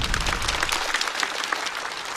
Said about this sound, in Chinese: 再次掌声送给曹国